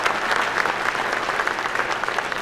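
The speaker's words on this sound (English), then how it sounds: "So how about a big round of applause for all our inductees" A banquet crowd at a county sports hall of fame induction applauds the inductees, a full, continuous roar of many hands clapping at a constant loudness throughout.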